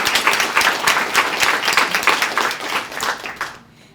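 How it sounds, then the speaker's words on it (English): A short burst of enthusiastic clapping from a room of people at a student of the year awards event, rhythmic and loud, stopping abruptly near the end. "So let's give our judges a round of applause."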